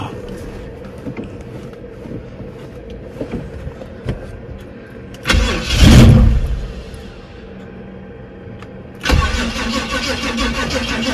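A Chevrolet El Camino with a suspected fuel pump problem cranks close by: a loud grinding start attempt catches briefly midway, then a second cranking burst follows after a short pause, over a quiet background hum.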